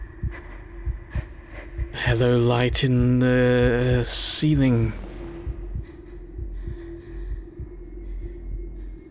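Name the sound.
heartbeat sound in video game Captured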